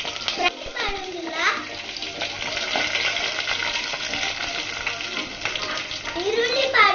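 Onions frying in hot oil in a home kitchen while making a Tulu-style fish curry, a steady crackling sizzle with stirring, voices talking over it throughout.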